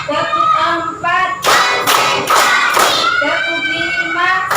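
Schoolchildren in a classroom clap hands in a counted rhythm, a few sharp, loud bursts of many hands together between stretches of voices chanting.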